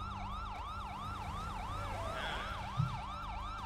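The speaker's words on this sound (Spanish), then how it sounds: "Ok, viene la grúa, va a apagar la sirena." Wailing police car siren from GTA 5, a steady rising and falling electronic tone repeating in fast cycles, loud and close throughout with a brief low thump near the end.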